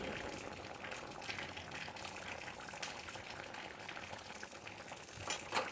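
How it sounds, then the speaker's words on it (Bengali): Jackfruit kofta curry simmers in a pot, giving a faint, steady bubbling and gurgling that runs evenly throughout, quiet and close, without voices. "কোপ্তা দিয়ে বেশিক্ষণ ফোটাবো না"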